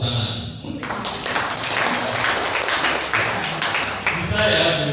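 Audience in a school-management seminar hall breaks into applause, a steady wash of clapping lasting several seconds with voices and tapping mixed in.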